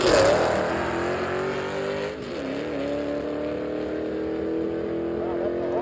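A nitrous-fed 3-valve 4.6 Mustang GT makes a steady, loud engine drone as it pulls down a drag strip, dipping briefly mid-run before holding a sustained high-revving tone to the end.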